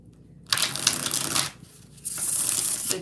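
An Everyday Witch Tarot deck being shuffled by hand, two dense papery riffling bursts separated by a brief pause, close and fairly loud.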